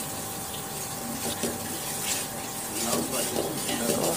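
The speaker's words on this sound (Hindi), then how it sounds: "अब हमने इसमें डाल दिया हींग का पानी" Asafoetida water poured into a cooking pot of Kashmiri Rogan Josh mutton, a steady watery splash and trickle under a faint voice.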